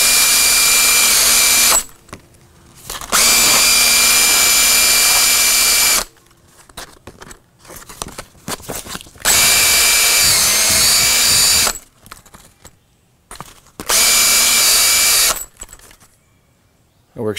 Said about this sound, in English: you can also put this on your drill